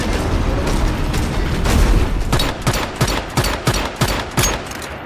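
Pistol gunfire in the survival game Once Human, a series of evenly spaced, loud single shots following a stretch of background game noise.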